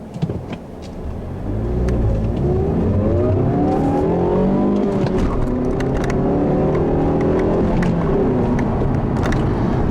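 A 2015 Mazda3 S GT's 2.5-litre engine with a 6-speed manual revs up and climbs through the gears while driving, a loud steady drone rising and falling in pitch from close inside the cabin.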